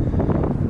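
Wind buffets a microphone outdoors in a park in spring, a loud, continuous low rumble with gusty surges throughout and no talking.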